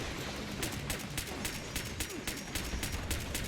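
Gunfire in the video game Fallout 76, a rapid series of sharp shots repeating at a fairly regular rhythm over a dense, noisy game background.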